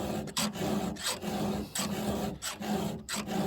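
A hand file rasps across a chainsaw chain in a regular rhythm of short, close strokes, each a gritty metallic scrape separated by brief pauses.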